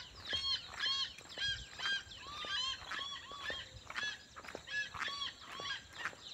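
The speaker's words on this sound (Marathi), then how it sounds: "पक्षी मोठं छोटं सगळंच ओरडत असतात" A flock of birds, large and small, calls in a Konkan village near Guhagar, a quick overlapping series of harsh honking, goose-like cries repeating steadily at moderate distance without any talking.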